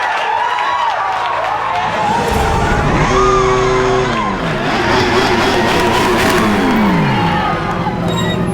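McAMS Yamaha racing motorcycle engine at a championship race, several sharp revving whines rising and falling as bikes pass, over a constant loud crowd and track roar.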